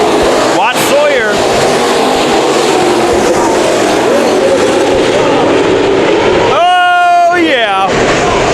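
IMCA modified race cars race at Bakersfield Speedway, loud engines roaring past, with a sharp pitch sweep near the start and a louder pass late in the clip over steady crowd and track noise.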